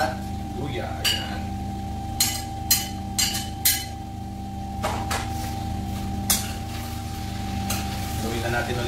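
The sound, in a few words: garlic, ginger and onion sautéing and being stirred in pan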